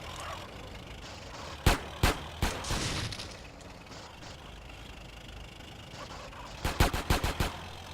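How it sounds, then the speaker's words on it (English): Gunfire from the PS4 version of GTA San Andreas: a loud, sharp burst of three or four shots, then a quieter stretch, then a rapid cluster of five or six shots near the end, over a steady game background. "Probably been easier to just shoot those barrels."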